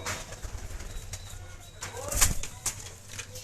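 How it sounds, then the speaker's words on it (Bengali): Pakistani-bred pigeons coo softly with a brief flutter of wings, over a low steady hum and background noise. "টেডি যত সম্ভব ফিমেল কবুতর হবে"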